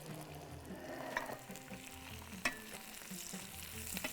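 Onions frying in a pan for a Bahraini rice stuffing, giving a steady close sizzle with a few light stirring taps.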